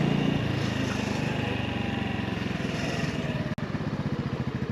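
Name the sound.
Honda Navi motorcycle engine while riding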